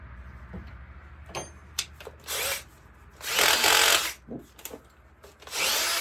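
A power drill with a 1/4 inch speed bit bores into wood for a mini deck chicken coop, whining in several loud bursts of varying length separated by quieter pauses and handling knocks.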